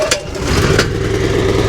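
A cold petrol engine with the choke on cranks and catches, then settles into a steady, loud, close idle with a continuous low rumble.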